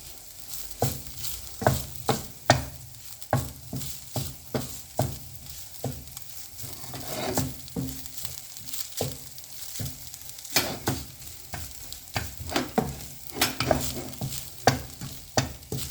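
A spoon scrapes and stirs shrimp masala into rice in a pan, with repeated sharp clacks against the metal at an uneven rhythm over a soft, continuous sizzle.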